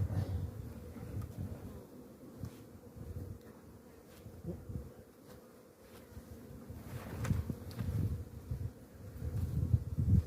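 Honeybees buzzing around a hive that is swarming again after an April swarm, a steady low drone rising and falling in loudness, with light wind noise and occasional rustling and no voices.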